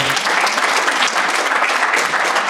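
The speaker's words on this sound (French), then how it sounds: "on peut tous les applaudir." A conference audience breaks into dense, sustained applause, loud and close, continuing evenly for the whole stretch.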